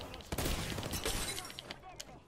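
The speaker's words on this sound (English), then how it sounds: "enemy shields make a shattering noise when they break" An enemy's shield shatters in Apex Legends, a quick burst of crackling, glassy breaking layered over dense gameplay noise and gunfire-like impacts, fairly faint throughout.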